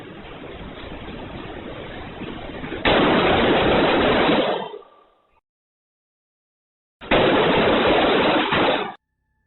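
Loud bursts of gunfire inside a school building during the Uvalde shooting: a long dense rattle of rapid shots that intensifies, cuts to silence, then resumes in another sustained burst, harsh and distorted.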